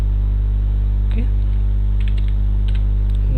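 Typing on a computer keyboard, a few scattered soft key clicks over a steady loud electrical hum, with no talking.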